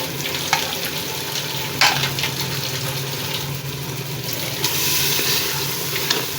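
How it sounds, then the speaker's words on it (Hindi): Peas frying in a pan with cloves and spices, a steady close sizzle with occasional stirring scrapes and crackles, no talk. "और मटर डाल के इनको भून लेते हैं।"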